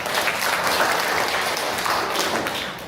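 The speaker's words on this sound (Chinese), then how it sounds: "如果你同意的话，拍手归荣耀。" A church congregation at a Sunday worship service bursts into steady, dense applause that fills the room at a constant level with no speech over it, easing slightly toward the end.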